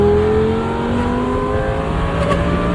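Lamborghini Gallardo engine revving loudly and close, a sustained rising high-pitched wail with steady harmonic pitch climbing, without talk.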